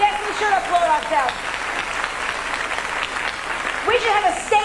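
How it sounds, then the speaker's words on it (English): A live stand-up comedy audience in a London theater bursts into applause lasting a few seconds, with a voice speaking before and after the clapping. "Yes, we should applaud ourselves."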